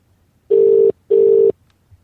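Two identical steady ringback tones from an outgoing phone call, each lasting about half a second with a short gap between them, loud and close with no voices.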